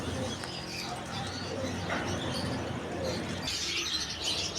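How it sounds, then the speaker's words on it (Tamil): Pigeons in an indoor bird enclosure in Chennai coo softly over a busy, constant background of other bird chatter and chirps. "இது வந்து புறா."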